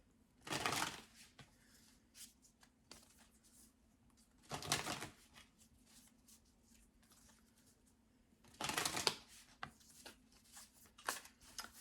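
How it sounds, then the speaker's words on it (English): A deck of tarot cards shuffled in three separate rapid riffling bursts, close and crisp, with quiet pauses and soft handling sounds in between. "Let's pull some tarot cards to just clarify this story."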